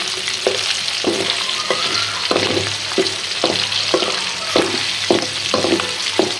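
Chicken and eggs frying in a pan give a continuous loud sizzle, with a regular series of spatula strikes and scrapes roughly every half second, close and without talking.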